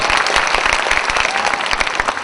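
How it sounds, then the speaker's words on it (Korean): Festival crowd at a university autumn concert bursting into loud applause, close and dense with sharp individual claps cutting through a continuous roar of hands. "박수 좀 부탁드리겠습니다"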